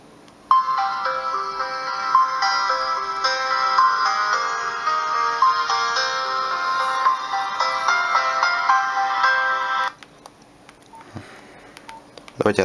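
A Nokia 1680 mobile phone plays a built-in polyphonic ringtone melody, loud and clear for about nine seconds before it cuts off, leaving quiet handling noise.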